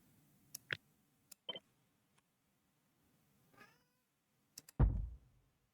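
A pet cat meows close by: a short, high meow early on, then a louder, drawn-out meow near the end, with a few faint clicks and taps in between.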